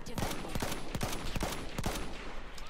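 Rapid gunfire in a Battlefield 1 Conquest Assault match, a dense run of sharp cracks and shots repeating every half second or so over constant battlefield din, with no voices.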